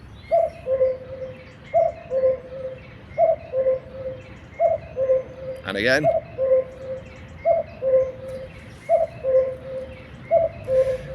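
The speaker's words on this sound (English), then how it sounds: "Of course, it's the epic cuckoo" A common cuckoo calls its two-note song again and again at a steady, evenly spaced rhythm, clear and fairly close, with a brief spoken voice breaking in midway.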